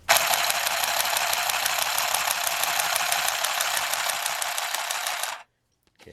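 A mini handheld sewing machine stitches a chain stitch with a fast, steady mechanical buzzing and clicking. It sounds loud and close, runs continuously for about five seconds, then stops abruptly into near silence.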